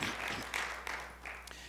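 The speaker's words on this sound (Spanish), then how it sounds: "Dele un aplauso de alabanza a Jesús" Brief applause from a church congregation praising Jesus during a sermon, a short burst of clapping that rises and fades in under two seconds.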